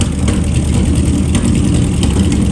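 A 1940 Cadillac 60 Series barn-find engine runs with no exhaust fitted, a loud, steady, rough idle with dense low rumble and popping texture throughout, close up and without voices.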